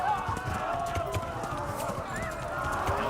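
Horse hooves clip-clopping in Kingdom Come Deliverance, a steady game-audio gait under a continuous bed of other game sound, with a brief whinny-like tone partway through.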